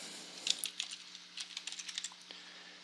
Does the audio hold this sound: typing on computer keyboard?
yes